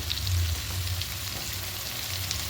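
Masala for a sea tangra fish and mustard dish sautés in a pan with salt and turmeric, giving a steady, close, even sizzle that hisses without pause.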